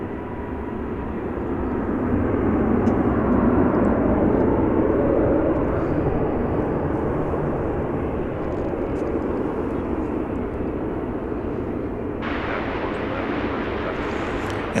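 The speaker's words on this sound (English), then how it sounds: "Coming in from Boston, flight 2527, a 737-800." A Boeing 737-800 arriving from Boston passes at Dallas Fort Worth airport, its engine roar building over the first few seconds, peaking, then settling into a steady, gradually fading rumble.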